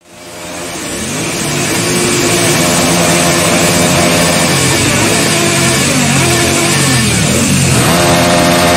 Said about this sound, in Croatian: Motoriste mogu da upale motore, upalite motore